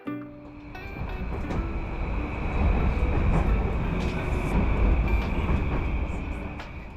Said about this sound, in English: We started navigating public transport from the airport itself and hopped onto a train.